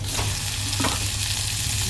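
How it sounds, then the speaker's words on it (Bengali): Chicken pieces hitting hot oil in a pan of frying potato and onion, a steady close crackling sizzle with stirring scrapes throughout, no voices. "এবারে এর মধ্যে আমি চিকেনটা দেব"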